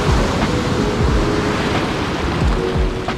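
Ocean surf rolls in steadily at a beach launch spot, a set of one-to-two-foot waves breaking nearby with constant loud wash and wind noise, no voices.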